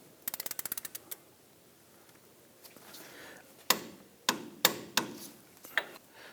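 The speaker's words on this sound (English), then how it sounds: "Let's torque down our pinch bolt to 52 foot-pounds." A torque wrench tightens a front pinch bolt nut on a 2006-2010 Hummer H3 during a CV axle replacement. A rapid burst of close metallic clicks starts things off, then a quiet stretch, then several sharp separated clacks.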